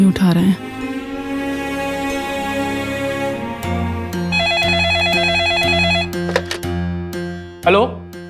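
Telephone ringing unanswered in an office, a loud electronic ring pattern repeating close by under a swelling dramatic music score, with a voice briefly heard at the very start.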